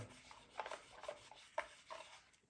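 Short rubbing strokes as residue is scrubbed off a Traxxas Maxx RC car part with rubbing alcohol, quiet scratchy swipes in an irregular rhythm, close and faint.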